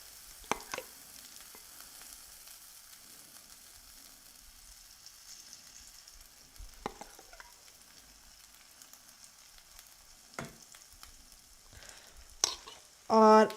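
Cauliflower coated in batter sizzles in a hot pan, a soft steady frying hiss broken by a few sharper pops and clinks, faint and fairly close, with no one talking.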